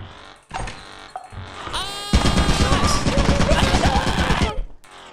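A turret in the video game Lethal Company fires a loud, sustained automatic burst of rapid shots up close, preceded by brief mechanical clicks and whirs, then cut off abruptly.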